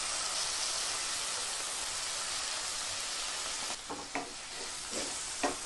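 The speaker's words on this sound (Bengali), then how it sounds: "তারপর মশলার সাথে ভালো করে মিশিয়ে নেব। কিছুক্ষণ কষাতে থাকব।" Tadka dal being sautéed and stirred with ground spices and garam masala in a pan, a steady broadband sizzle throughout with a few spoon scrapes and stirring knocks near the end, no talking.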